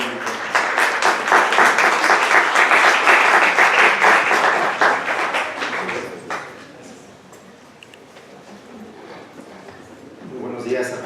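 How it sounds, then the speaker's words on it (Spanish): An audience at a general session on allergic rhinitis applauds its lecturers with several seconds of strong dense clapping, which fades out and leaves quiet room sound before a voice returns at the end. "Démosle un fuerte aplauso a nuestros profesores de este día"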